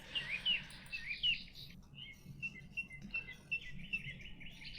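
High, thin chirps and tweets from birds in the King's Quest III remake game, repeated in quick irregular bursts over a soft background.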